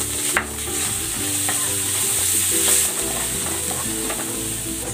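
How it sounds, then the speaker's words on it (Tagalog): Garlic sautés in hot oil with a dense, continuous sizzle, close and loud, and a brief clink of a utensil near the start, with no talking. "Gigisa ko na tong bawang."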